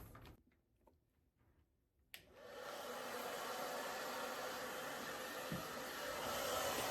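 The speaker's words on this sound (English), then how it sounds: "the hair dryer is very important because the heat keeps the hair straight as you're drying it out" After a few seconds of quiet with faint clicks, a hair dryer switches on and blows with a steady, loud rushing whoosh while drying a long-haired dog during grooming.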